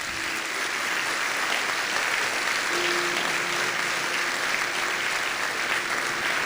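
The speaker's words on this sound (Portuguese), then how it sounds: "Vamos dar uma salva de palmas." Steady applause from a church congregation at a baptism, dense and continuous clapping at an even level throughout.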